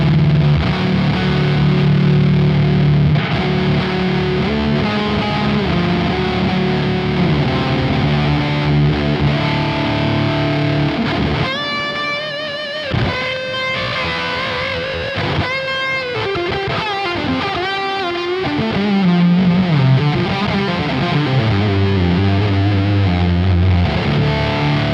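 Electric guitar driven through two fuzz pedals ahead of an overdrive on a Quad Cortex, a thick, saturated distorted tone playing sustained chords and riffs continuously with a short lighter passage midway.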